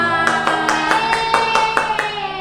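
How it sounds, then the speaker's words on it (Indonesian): Young kindergarten children clapping hands in unison, about nine evenly spaced sharp claps over recorded music with sustained tones, close and clear. "tepuk tangan semua"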